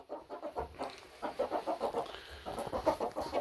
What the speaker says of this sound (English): Round up me chickens.